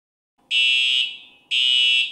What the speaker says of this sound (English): If a fire alarm sounds, do not leave your safe location